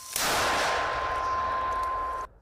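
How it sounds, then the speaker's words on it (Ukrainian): A sharp blast from a Ukrainian army mortar firing, followed by a sustained roaring hiss for about two seconds before cutting off. "Міномет! постріл!"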